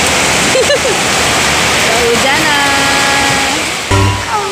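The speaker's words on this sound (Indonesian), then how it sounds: "hujan ya." Heavy rain pours down outdoors in a loud, steady roar of hiss, while voices talk and exclaim over it.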